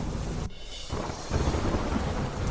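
Heavy rain pouring in Delhi, a dense steady hiss of downpour with low thunder rumble, briefly dipping before returning louder, with no voices.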